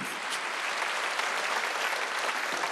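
A church congregation claps during a Sunday worship service, a steady, dense wash of applause filling the space at even loudness from start to finish, with no voices over it.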